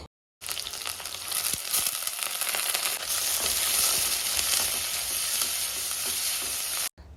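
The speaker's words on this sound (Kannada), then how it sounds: "ಒಂದು ಪಾತ್ರೆಗೆ ಒಂದು ಸ್ವಲ್ಪ ಎಣ್ಣೆ ಹಾಗೆ ಒಂಚೂರು ಸಾಸಿವೆ ಹಾಕಿಬಿಟ್ಟು ಅದು ಸಿಡಿದ ನಂತರ ಕ್ಯಾಪ್ಸಿಕಮ್ಮು ಮತ್ತು ಸ್ವಲ್ಪ ಕ್ಯಾರೆಟ್ನ ಸೇರಿಸ್ಕೊಳ್ತಾ ಇದ್ದೀನಿ" Capsicum and carrot frying in oil with mustard seeds in a pan, a steady close sizzle with crackling, broken by stirring and a brief silence at each end.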